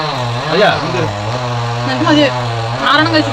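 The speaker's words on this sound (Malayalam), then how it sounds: "ഇവിടെ മരം മുറിക്കുന്നുണ്ടല്ലോ" A chainsaw cuts a tree close by, its steady buzzing engine drone running throughout with a few rising revs, beneath people talking.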